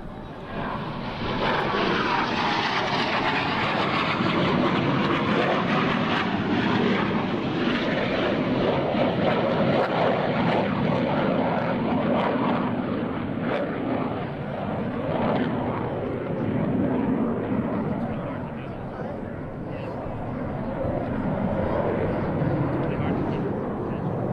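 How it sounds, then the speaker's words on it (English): US Navy Blue Angels F-18 jets make an inverted flyby at an airshow in Dayton: a loud, sustained jet roar swells and fades slowly over about twenty seconds, with a voice faintly underneath. "Two solo pilots are approaching once again, this time to demonstrate the inverted flight capabilities of the F-18."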